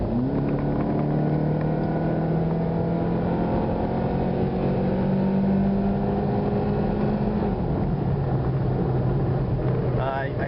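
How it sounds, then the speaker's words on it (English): Stock car engine fitted with a modified cold air intake and K&N filter, a steady engine drone that rises and falls as it accelerates through the gears, loud and close, with talk over it. "But you could definitely hear the engine."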